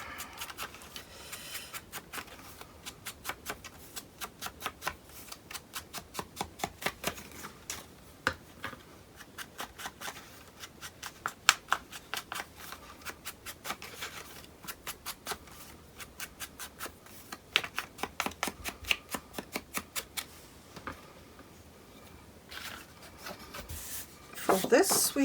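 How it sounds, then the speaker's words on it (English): Paper being distressed for a scrapbook mini album makes a long series of quick scraping and rubbing strokes in irregular bursts, close and fairly quiet, with a voice occasionally speaking. "Then let me distress here my paper."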